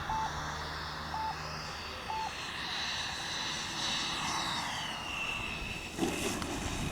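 A Flyfans MiG-25 Foxbat EDF model jet on a long, no-flaps landing approach, its ducted fan whining steadily at a distance with shifting pitch, alongside short repeated electronic beeps and wind noise.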